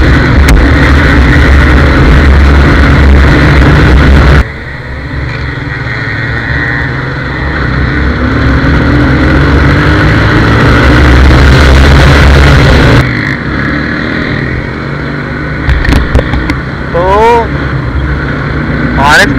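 A 1988 Yamaha RX 100 two-stroke motorcycle, running with extra oil and smoking heavily, roars steadily while being ridden, loud and close, with revving surges and a few brief drops in intensity, under occasional talk.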